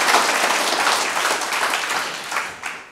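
An audience clapping in a conference hall, a dense burst of applause that starts loud and gradually thins out toward the end.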